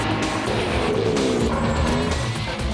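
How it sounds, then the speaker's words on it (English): JGTC race cars roll toward a rolling start, a loud, steady engine roar from a packed field with blended growls and no breaks. "Thousands of horsepower shakes the ground as more than 40 powerful machines prepare for the dramatic"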